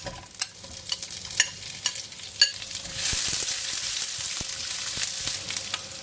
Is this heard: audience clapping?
no